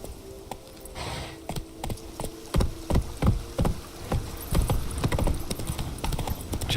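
Roach, a horse in The Witcher 3, trots with steady clip-clop hoofbeats, fairly close and clear over a low game ambience, the footfalls keeping an even rhythm throughout.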